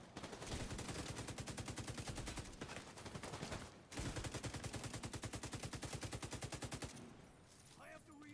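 Sustained fully automatic fire from a weapon in The Division 2 hardcore Dark Zone, a fast, even rattle of shots in two long bursts separated by a brief pause, ending as the firing stops.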